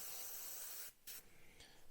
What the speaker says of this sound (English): I'm just going to spray the back of my glove to start with, just to clear the plug of retarder thinner on it.